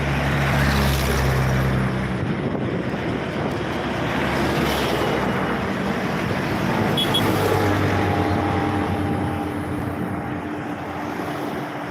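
Steady road traffic roars past an underpass in Palembang, with trucks and delivery vehicles among it. A continuous low rumble, close and loud, with shifting engine drones and wind-like noise throughout and no voices.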